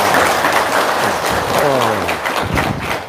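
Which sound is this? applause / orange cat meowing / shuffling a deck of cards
applause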